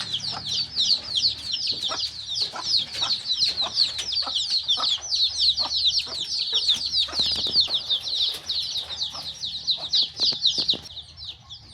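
Pigeons feeding in a cage make a rapid run of close pecking taps and wing rustles under a continuous layer of high chirping.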